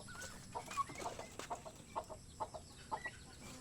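Roosters cluck in a steady series of short, quiet calls, several birds overlapping at a moderate distance against a soft background hiss.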